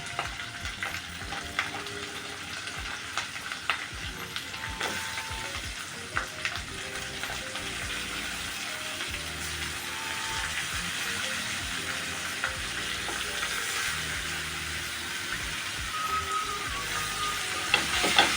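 Stuffed eggplants sautéing in oil over a low flame in a Konkan-style Maharashtrian kitchen, a steady, fairly soft sizzle and crackle with occasional light clicks, running alone without talking.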